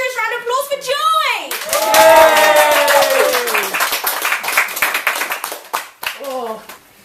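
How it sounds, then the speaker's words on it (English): A fringe poetry show audience cheers and claps for a poet, with loud whooping and shouted voices over the applause, which thins out toward the end. "so can we have a huge round of applause"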